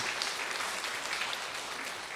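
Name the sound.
congregation clapping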